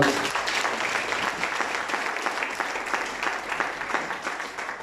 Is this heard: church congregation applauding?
yes